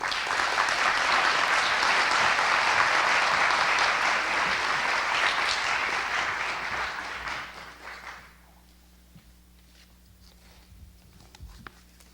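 Audience applause welcoming a speaker to the stage at a V-Day event on violence against women, a full steady clapping crowd for about eight seconds that abruptly dies away to near quiet.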